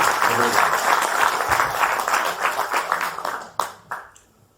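An auditorium audience gives the group Intervalo and its director a loud round of applause, dense at first, then thinning into a few scattered claps before fading out.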